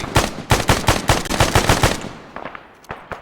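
Bursts of automatic weapon fire in a military video game: rapid, loud machine-gun volleys for about two seconds, then a few scattered single shots further off.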